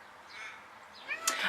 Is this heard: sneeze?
no